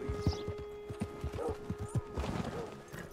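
Horse hooves clop in a steady walking rhythm in the video game Red Dead Redemption 2, close and moderately loud with a faint tonal game background hum.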